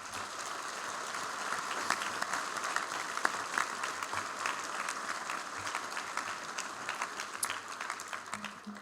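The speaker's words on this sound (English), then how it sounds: "And if we get a round of applause." Steady applause fills a school auditorium at a National Honor Society induction ceremony, as students stand to be recognized; an even, sustained clapping throughout, with a few sharper individual claps and a hint of voices beneath.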